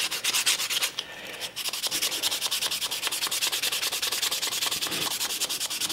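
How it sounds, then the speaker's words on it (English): Rhythmic hand sanding of a very dry wooden letter opener, steady close back-and-forth scratching strokes throughout with a brief pause near the start, no voices. "now I'm just going to sand it"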